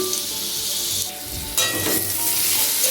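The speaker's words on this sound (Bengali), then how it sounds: "আলুটা লাল করে ভেজে তুলে রাখছি" Potato pieces frying until reddish-brown in mustard oil for a Bengali bora alur dalna: a loud, close, continuous sizzle with a brief dip midway and crackling, with no voices over it.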